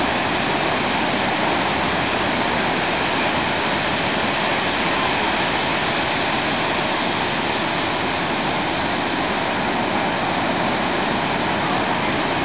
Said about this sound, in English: This is the first time Cody's ever seen the ocean.